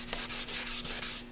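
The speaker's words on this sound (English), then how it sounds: "the little sanding stick is a big help." Quick, rhythmic sanding strokes, about six back-and-forth rubs of a small sanding stick on a 1988 Yamaha FZR motorcycle fairing, close up and fairly quiet.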